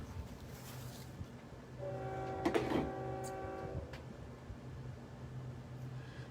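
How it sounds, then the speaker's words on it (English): A train passing close to a house sounds a long, loud horn blast of a few seconds over a low rumble of rail traffic. "I live by the trains. So if you're hearing it, I apologize now because it's loud."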